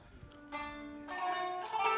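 A qanun plucked through a short microtonal Maqam phrase, with several bright ringing string notes in quick succession, at a moderate volume and with no talk over them.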